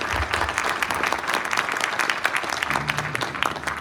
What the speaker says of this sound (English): If you would, audience, let's give them a round of applause.